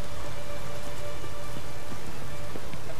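Steady rain in The Witcher 3 Wild Hunt, a constant dense hiss of drops on surfaces with no pauses, filling the scene from start to end.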